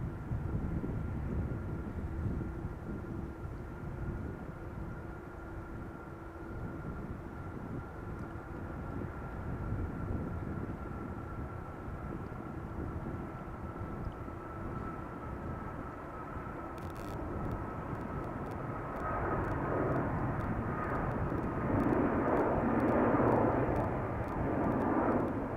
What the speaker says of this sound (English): We might be able to pick up on the El Al 777. Yep, there it is, going to Tel Aviv